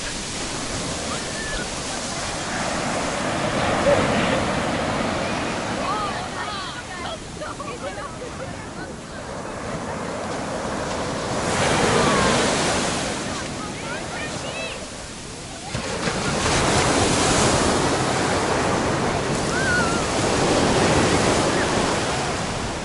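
Sea waves wash onto Cleopatra Beach in Alanya on a warm December evening, a steady broadband roar that swells and recedes in slow surges, with wind noise on the microphone.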